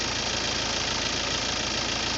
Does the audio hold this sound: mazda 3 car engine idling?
yes